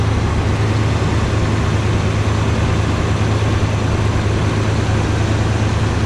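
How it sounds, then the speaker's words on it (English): A 1966 Chevrolet Corvette's 427 V8 engine rumbles loudly and steadily at idle, a deep continuous drone with no talking. "Let you listen to the engine."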